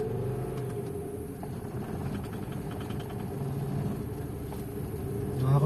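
A car engine idles steadily with a low rumbling hum, close and even, rising slightly in loudness at the very end.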